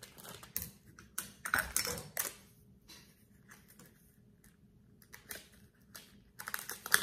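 Quick crisp snips and crinkly plastic clicks of scissors cutting open GoPro Hero 8 Black packaging, irregular bursts close by with quiet gaps between.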